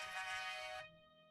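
A mobile phone ringtone plays alone, a bright repeating electronic melody that cuts off abruptly after under a second, leaving a faint lingering tone, in an indoor scene from a Nigerian film.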